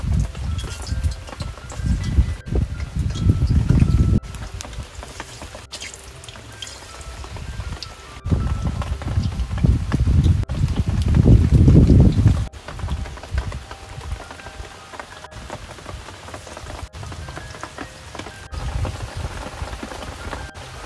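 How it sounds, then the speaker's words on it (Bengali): Palm fritters (taler bora) deep-frying in hot oil give a steady crackling sizzle that swells and fades in waves, close and moderately loud, with no talking. "এবার একে একে তালের বড়াগুলো ভেজে নেব।"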